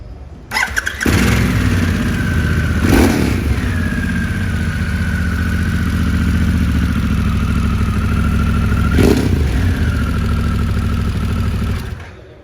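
A Harley-Davidson Pan America motorcycle engine cranks and starts, then runs loud and close at a steady idle with a whining tone, two short revs briefly lifting the pitch before it shuts off.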